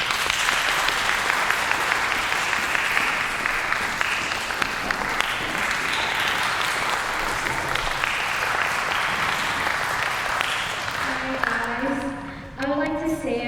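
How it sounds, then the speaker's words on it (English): Sustained audience applause fills a recital hall for Tien after a brass quintet performance, a steady dense wash of many hands clapping that thins near the end as a voice begins speaking. "Let's give Tien another great round of applause again."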